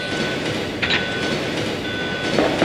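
Moving train in the video game Resident Evil 2, a steady loud rumble with rail noise throughout, broken by brief hissing bursts, no voices.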